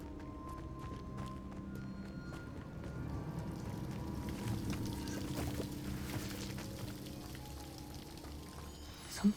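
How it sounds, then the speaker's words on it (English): A waterfall in the Hogwarts Legacy video game gives a steady rushing, pouring wash of water that continues evenly for the whole stretch, with no talk and a brief louder knock at the very end. "The waterfall."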